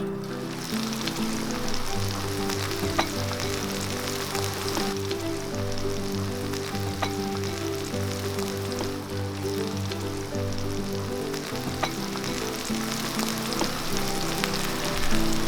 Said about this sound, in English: first thing I'm gonna do is cook some veggies in here